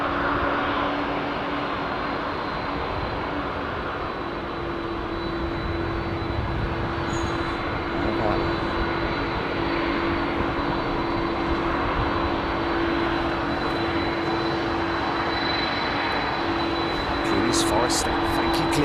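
Jet airliners departing runway 27R at London Heathrow Airport, a loud sustained engine roar that holds steady throughout, with talk heard faintly beneath it.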